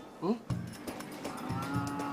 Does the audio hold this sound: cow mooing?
yes